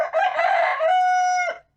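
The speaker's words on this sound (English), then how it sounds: "The morning one is a rooster." A rooster crows once for a video game's morning ambience, a loud, close cock-a-doodle-doo with a rising start and a long held final note that cuts off cleanly.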